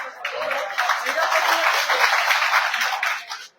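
A crowd at a political rally clapping, a dense sustained burst of applause lasting a few seconds before cutting off, loud and close.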